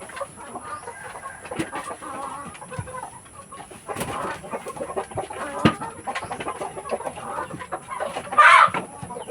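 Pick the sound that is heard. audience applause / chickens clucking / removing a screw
chickens clucking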